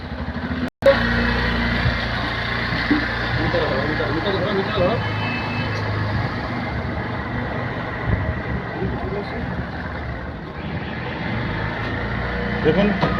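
A Bajaj Platina 110 ABS motorcycle runs steadily while being shifted through its five gears, a loud continuous engine drone with a brief cut near the start, as someone talks over it.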